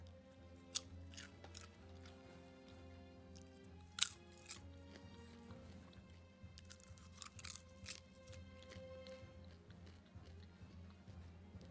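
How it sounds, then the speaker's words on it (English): Crunchy chips being bitten and chewed, with scattered sharp crunches over steady game background music and no talking. "You can only hear me crunching."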